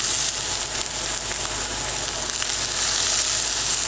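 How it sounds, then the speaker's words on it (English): Minced shallots and mushrooms sauteing in butter in a hot pan, a steady close sizzle and crackle that runs evenly throughout with no talking. "with that butter, we're going to throw in just a few shallots, minced up beautifully. And then we add our mushrooms."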